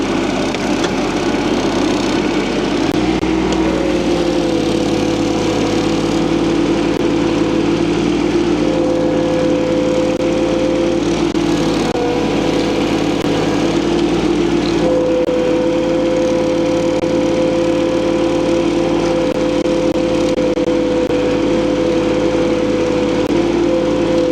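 A tractor towing a land plane runs with a steady, loud engine drone and a constant hum throughout, with no talking.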